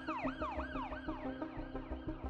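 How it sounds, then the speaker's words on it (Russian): An ambulance siren wails in a fast, repeating rise-and-fall pattern, steady and moderately distant, with no voices over it. "Скорая приехала быстро."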